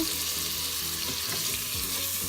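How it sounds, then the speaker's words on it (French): Balsamic vinegar hissing in a hot pan while deglazing for Cuban congrí, a loud, steady, close sizzle with faint stirring underneath. "Donc moi je mets un petit peu de vinaigre balsamique. Donc ça déglace un peu."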